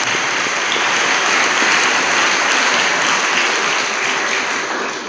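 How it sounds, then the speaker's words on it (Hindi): A congregation at a Catholic Sunday Mass at St. Joseph's Catholic Church claps loudly and continuously in a thick, even wash of applause that tapers slightly at the end. "मैं एक दफ़ा चाहूँगा सबके लिए ज़ोरदार तालियों में सबका शुक्रिया"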